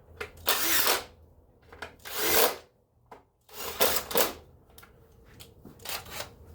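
A power tool whirs in short repeated bursts while tightening ignition coil bracket bolts on a 1995 Camaro, each burst close and buzzing, separated by brief quiet gaps and light handling noises.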